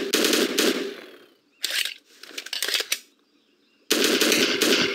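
Video game gunfire plays in loud rapid automatic bursts when the mouse is clicked, several bursts broken by quieter gaps filled with softer game sounds.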